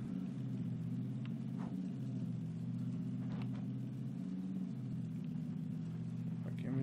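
Car engine in PlayerUnknown's Battlegrounds, a steady low mid-range rumble that carries through the whole stretch, with occasional small knocks and clatters on top and no talking.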